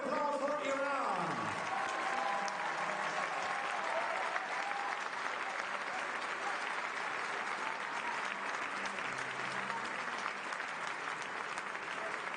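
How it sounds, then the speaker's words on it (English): A large arena crowd at a wheelchair basketball world championship medal ceremony gives sustained, even applause for a team, with an announcer's voice fading out at the start. "Give it a great applause for Iran."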